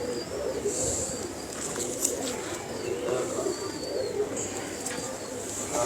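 Pigeons coo softly at a loft among fancy breeding birds, with low murmuring calls and occasional chirps over steady outdoor background noise, fairly faint and continuous.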